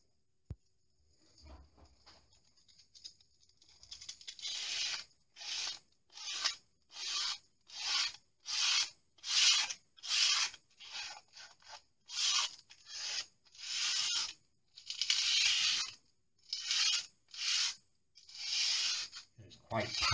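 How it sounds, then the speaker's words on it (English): Hand sanding of flaky, water-stained paint, light rhythmic rasping strokes repeated steadily, each a short scratchy swipe with brief pauses between, close and fairly quiet. "So I need to go round first of all and just give it a very light sand."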